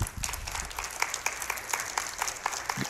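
Audience applause closing a conference talk, a dense steady patter of many hands clapping throughout, fairly close and uninterrupted.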